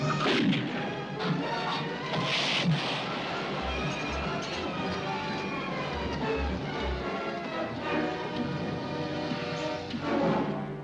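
Artillery cannon fire in a 1951 Western battle scene, a loud, dense barrage of booms and crashing blasts running continuously, with faint shouting voices underneath.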